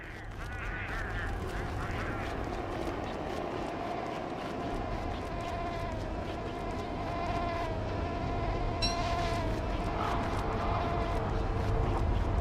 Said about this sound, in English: I hear mosquitoes